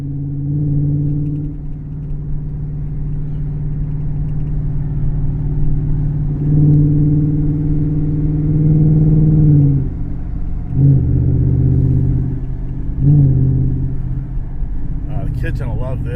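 A race truck's engine rumbles steadily at idle with deep low exhaust drone, swelling in a few brief revs, while people talk over it.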